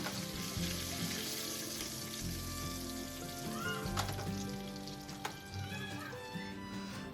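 Dried red chilies, mustard seeds and curry leaves sizzle and crackle in hot oil, a steady close frying hiss that runs throughout with occasional louder pops.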